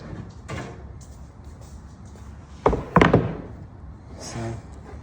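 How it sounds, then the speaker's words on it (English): A wooden paint-grade raised panel cabinet door is picked up and handled in a shop, giving a few soft knocks and then two louder, sharp thunks close by, with light rustling between. "So let me grab this door."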